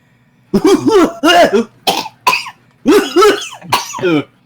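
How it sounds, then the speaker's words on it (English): A person laughs and coughs at the same time, giving a close, loud series of about eight choppy bursts with brief pauses between them. "It sounded like when you're laughing and you accidentally cough at the same time, like you were smoking."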